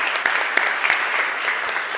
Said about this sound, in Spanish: Y un fuerte aplauso para todos nosotros.